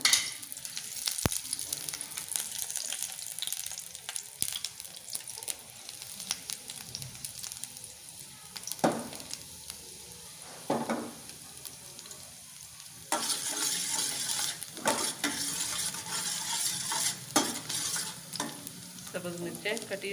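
Chopped garlic sizzling in a tablespoon of hot ghee while being stirred, a continuous crackling fry with scraping stirs throughout, getting louder in the second half.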